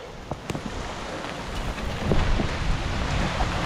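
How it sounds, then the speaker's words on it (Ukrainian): Steady rain hisses and patters around a rider on an electric scooter outdoors, a dense broadband wash that swells louder through the second half with a few sharper drop hits. "Потрапив з ним під дощ."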